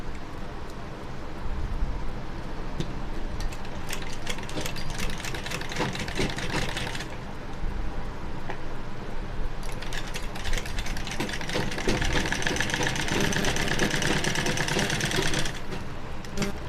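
A sewing machine runs in sustained bursts while stitching a blouse sleeve seam, a steady mechanical whir with rapid needle chatter that pauses briefly near the middle before resuming at similar loudness.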